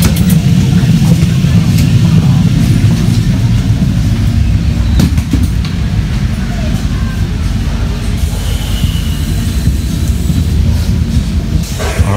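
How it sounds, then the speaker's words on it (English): A train arrives at a station in Italy with a steady, loud rumble of wheels and engine that lasts throughout, with faint clicks and clanks above the continuous roar. "I think my train is coming over. And it is here."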